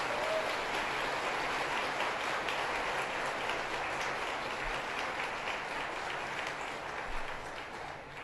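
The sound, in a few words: audience applause at an event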